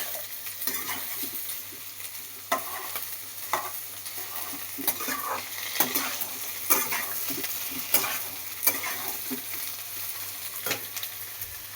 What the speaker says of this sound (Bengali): এবার আবার একটুখানি নাড়াচাড়া করে নেব